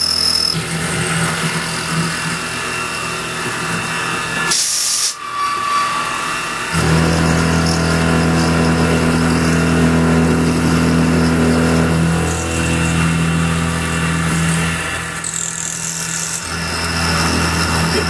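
A loud, steady machining whine with a grinding edge drones on, briefly dropping out, then resuming as a milling cutter bites into metal.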